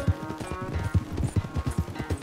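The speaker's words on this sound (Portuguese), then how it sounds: "Já, meu cavalo tá muito bem treinado, Dutch." A horse gallops in Red Dead Redemption 2, a fast, steady run of thudding hoofbeats up close, with game ambience underneath.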